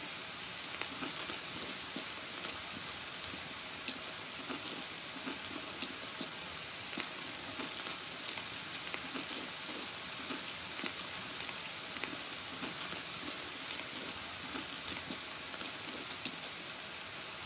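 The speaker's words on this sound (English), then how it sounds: "It's just rain is very hard to hear through." Steady, dense rainfall in the video game Escape from Tarkov, a continuous broadband hiss of drops hitting surfaces with faint irregular patters, fairly quiet and unchanging throughout with no talking.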